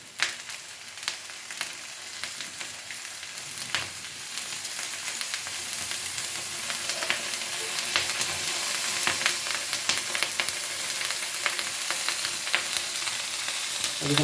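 Butter sizzling on a hot chicken sizzler plate with the gas switched off, a steady close crackling hiss that builds slightly over time, with scattered sharp pops and no talking.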